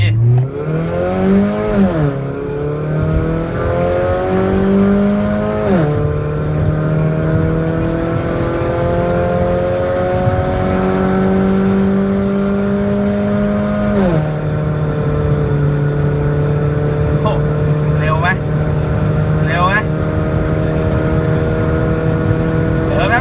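Turbocharged Toyota Vios engine running on 0.3 bar boost, revving up and settling in a few long sweeps, loud and close with a steady drone between rises.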